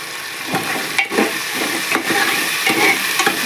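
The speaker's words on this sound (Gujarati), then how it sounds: "બધું મીઠું નાખી સરસ બધું હલાવી નાખી।" Green peas and potato curry stirred in a pan after salt is added, continuous sizzling with several scraping spatula strokes, close and fairly loud, with no talking.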